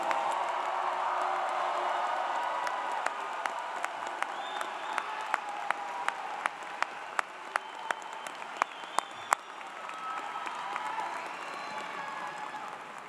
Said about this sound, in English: How about another round of applause for our newest graduates?